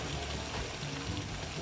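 Creamy carbonara sauce is poured onto pasta in a home kitchen, a soft, faint, continuous liquid pour with no voices.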